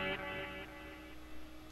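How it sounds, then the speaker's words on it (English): An electric guitar through a Tom Scholz Rockman with stereo echo, distorted chords ringing out and repeating in fading echoes, faint and alone. "So now we've just got the echo."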